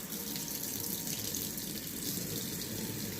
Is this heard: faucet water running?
yes